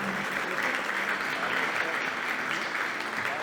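A fashion show audience applauds health workers with a thick, continuous wash of clapping that stays loud and even from start to finish.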